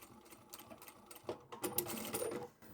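A sewing machine back-stitches fabric for a pot lid cover, making short, close, quiet bursts of rapid mechanical stitching with brief pauses between runs.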